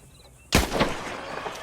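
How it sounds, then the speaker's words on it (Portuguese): A rifle shot fired while hunting in Red Dead Online: one sharp, loud crack after a quiet moment, with a short echoing tail. "E o tiro foi perfeito."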